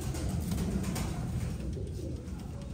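Show pigeons from a breeder's selected stock cooing softly and continuously against a steady background hum, fairly faint and close.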